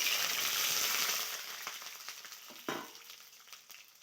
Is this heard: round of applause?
no